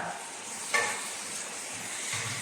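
Chicken tom yam with carrot and onion is stirred in a hot pan, giving a steady close sizzle with soft scraping of the utensil throughout.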